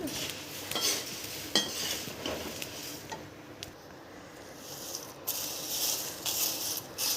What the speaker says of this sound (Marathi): थोडं एक मिनिटच भाजायचे जास्त वेळ भाजायची गरज नाही यांना